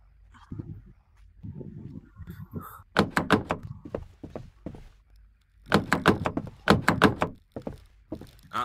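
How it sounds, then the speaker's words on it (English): Heavy repeated thuds and rattles of a door being pushed and yanked without opening in a VRChat game, bunched into loud bursts of banging, with some brief low voice sounds early on. "This door ain't opening."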